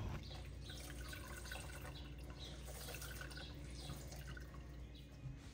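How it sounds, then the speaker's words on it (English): Mint iced tea drips and trickles through layers of cheesecloth in a strainer. The faint, continuous patter of liquid is heard close to the mic, with no talking. "I am going to strain these mint leaves out of my tea using a couple layers of cheesecloth and a strainer"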